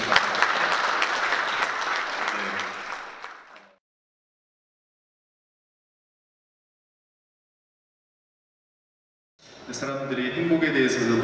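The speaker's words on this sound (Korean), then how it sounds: "큰 박수로 다시 한번 환영하겠습니다" An audience at a forum talk applauds loudly for a few seconds, fades to silence, then applause picks up again toward the end.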